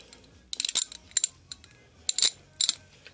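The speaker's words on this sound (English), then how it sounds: "It's a pretty good ratchet." Steel-backed ratchet wrench from an inexpensive tool set, giving several short bursts of crisp pawl clicks close up with pauses between them and no talk.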